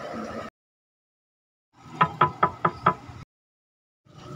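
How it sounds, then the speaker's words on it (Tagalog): A door is knocked on five times in a quick, even row, close and clear, with short stretches of near silence before and after. "may kumakatok. Buksan mo yung pinto."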